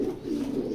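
Inside a pigeon loft, a big female racing pigeon gives a brief, low, throaty coo close by.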